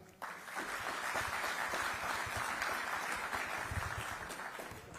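A summit audience applauds in a large hall, dense sustained clapping that starts abruptly and holds steady at moderate distance.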